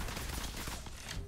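Gunfire from the mobile battle royale game Apex Legends Mobile, a brief burst of rapid shots crackling densely and loudly across the whole moment.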